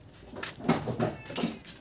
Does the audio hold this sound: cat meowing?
yes